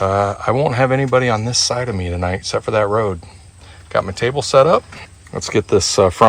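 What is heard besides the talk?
None of the usual background noises is heard.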